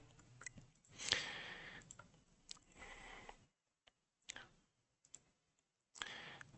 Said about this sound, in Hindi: यहाँ पर क्लिक करके ट्रांसलेट पे आपने क्लिक करना है।